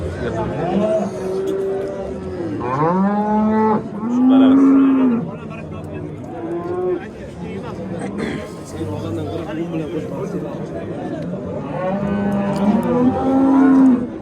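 Several loud, drawn-out cow moos, close by, repeating across the clip amid a busy crowd of people talking in the background.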